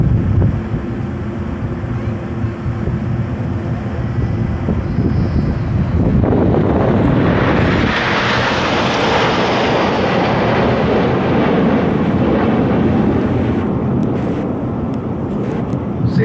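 Red Arrows jets passing overhead in formation alongside a Lancaster bomber at an air display in Kuwait, a steady broad roar that swells as the aircraft draw near and stays loud and continuous.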